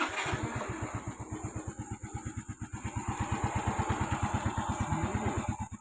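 A Yamaha Mio i 125 scooter idles after a CVT repair with a new slider piece. The engine makes a steady, fast, even putter that is fairly faint and close, with no talking.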